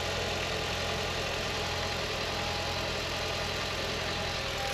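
An Audi TT MK1 engine idles steadily up close after an inlet manifold and injector refresh, giving a continuous, even mechanical rumble with a faint ticking pulse and no voices.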